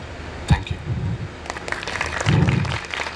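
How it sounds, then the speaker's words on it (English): Audience applause for Anfas, winner of a Talk Your Thesis presentation: uneven, moderate clapping from a small room, with speech and thumps over it. "A huge round of applause for Anfas."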